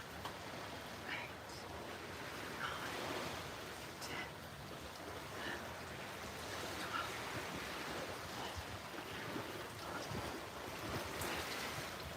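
Surf washing onto a beach, a soft continuous wash of breaking waves mixed with wind rumble on the microphone, steady and moderately distant throughout.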